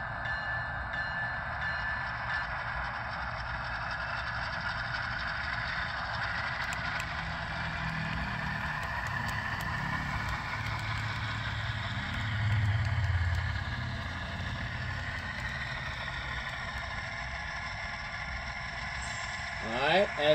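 A model diesel locomotive idles with a steady low engine rumble and a continuous hum, with a slight swell near the middle and brief clicks at the end.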